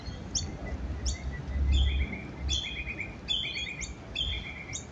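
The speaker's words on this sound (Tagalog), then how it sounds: "Dami mga ibon." Many birds being fed in a park chirp in quick, high bursts, several calls repeating and overlapping at close range over a low outdoor rumble.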